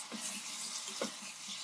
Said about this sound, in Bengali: চিংড়িগুলো দিয়ে দিচ্ছি